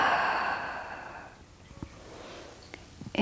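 A long, soft exhaled breath during seated yoga, fading out, followed by a few faint small clicks and rustles.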